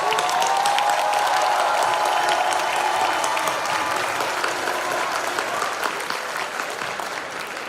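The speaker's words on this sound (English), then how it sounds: "Class, let's give the YCA cadre and staff a thunderous round of applause" A graduation ceremony crowd gives the Youth ChalleNGe Academy cadre and staff a loud, sustained round of applause with some cheering, the clapping thinning slightly toward the end.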